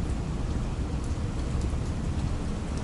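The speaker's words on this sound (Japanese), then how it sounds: "ちょっと雨宿り中です" Steady heavy rain pours down in Bangkok, a dense, continuous hiss of drops hitting surfaces with a low rumbling undertone, close and loud throughout with no voices.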